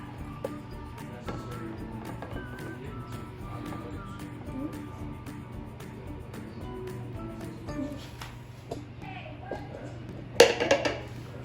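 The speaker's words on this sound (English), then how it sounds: "Take the Bundt Pan or cake out of the pan, if I can get it out." A metal Bundt pan is handled while a flan cake is freed from it, with soft clinks and scrapes running through the clip and a sharper metallic clatter near the end. A voice talks in the background.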